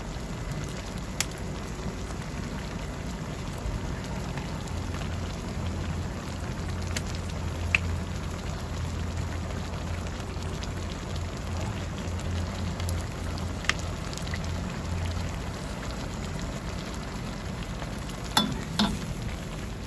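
Sardines sautéing in a pan for a Filipino ginisang sardinas dish, with a steady, even sizzle of frying and some stirring that runs the whole time, plus a few brief clinks near the end.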